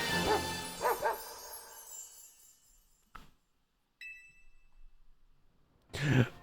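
A dog-type creature in the Pokémon Legends: Z-A game gives a couple of quick barks at the start, followed by sparse chimes and clangs from the game and a final bark-like burst.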